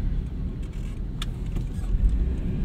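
A 2003 Suzuki Escudo 1.6L engine hums steadily and slightly rough from inside the cabin while driving, a continuous low drone with road noise and a brief faint jingle partway through.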